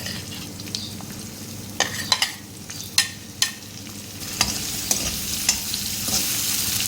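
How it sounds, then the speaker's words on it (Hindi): Tomato and onion pieces fry over low heat in a pan, a steady close sizzle with several sharp spatula scrapes and stirring clinks punctuating it throughout. "इसको भी हल्की आंच पे मैं इसको फ्राई कर रही हूँ।"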